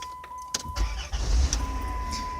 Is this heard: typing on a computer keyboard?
no